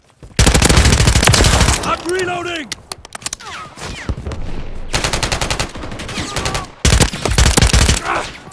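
In a Call of Duty: Modern Warfare III Team Deathmatch match on the Invasion map, loud bursts of rapid automatic gunfire come in long volleys with short gaps, mixed with game sound effects and voice callouts.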